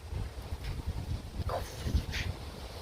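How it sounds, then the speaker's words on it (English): Wind buffeting a microphone outdoors, a low rumbling roar with irregular gusts, fairly faint and continuous through the short stretch. "Talk loud because the wind."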